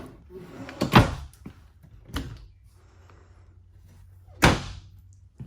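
Deep drawers in an RV kitchen island sliding and shutting, three sharp knocking closes spaced a second or more apart with softer rustling between, close by.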